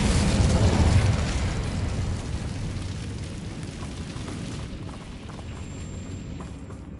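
A fiery blast from the Incendio spell in Hogwarts Legacy bursts loud and close, then settles into a rumbling, crackling burn that slowly fades.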